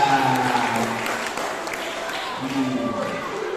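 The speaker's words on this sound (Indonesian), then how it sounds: "Tepuk tangan dong Pak Yunus dulu." Elementary school pupils clapping during a savings awareness session in a classroom, a moderate, scattered round of applause that gradually thins out.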